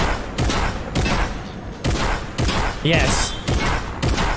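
A combat shotgun blasts in a video game, roughly eight heavy booming shots in a quick, fairly regular rhythm, close and loud, with a voice speaking briefly between them.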